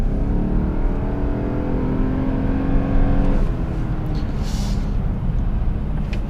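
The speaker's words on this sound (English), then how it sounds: "you get this sort of weird noise, which means the car isn't changing any gears" Engine and drivetrain of a 2007 Lexus GS 450h hybrid with a CVT gearbox, giving a steady droning hum that holds one pitch without gear changes, fairly loud and continuous, easing off slightly partway through.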